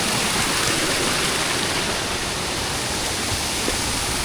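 Water pours steadily at Adawala waterfall by a bathing spot, a loud, close, continuous roar of falling water with no talk.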